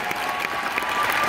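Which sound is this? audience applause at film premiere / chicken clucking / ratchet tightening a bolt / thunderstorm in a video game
audience applause at film premiere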